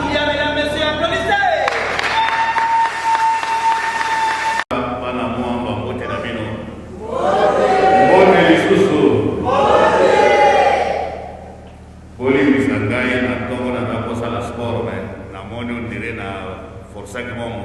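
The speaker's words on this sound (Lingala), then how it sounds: "Mesdames, messieurs, applaudissez." An audience at a formal event breaks into applause and cheering in loud swells that rise and fall across the gathering, with a voice speaking over parts of it and music-like tones early on.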